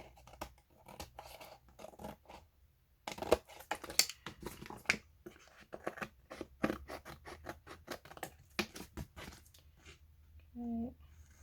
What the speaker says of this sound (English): Now we trim off all the excess bits all around